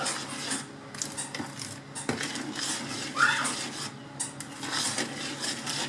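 Marble cake batter with sifted flour and baking powder is stirred in circles in a bowl, giving repeated close scraping and rubbing sounds with occasional light knocks against the bowl.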